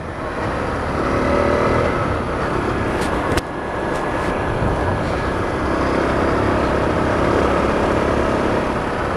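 Honda CRF250L dual-sport motorcycle engine droning steadily while riding paved and gravel back roads, with heavy wind rush over the microphone and a brief sharp knock partway through.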